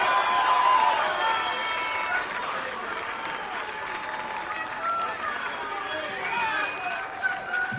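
An outdoor bluegrass concert crowd gives the performers another round of applause, a broad wash of clapping and cheering, loudest at first and then settling, with a voice talking over it.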